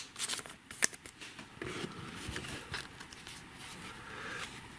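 Pokémon trading cards are shuffled close by, with quick papery riffles and flicks in short bursts, fairly quiet and with no talking.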